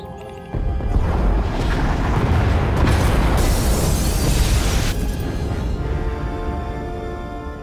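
Explosions tearing through pod bays in the sci-fi video game Star Wars: The Old Republic, a loud, sustained rumbling roar of blasts and debris that swells and then slowly fades.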